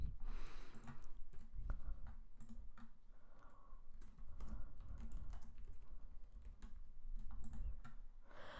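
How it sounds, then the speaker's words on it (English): Quick typing on a computer keyboard, a steady stream of fairly soft, close key clicks that runs throughout with brief pauses and no talking. "I'll just quickly type this."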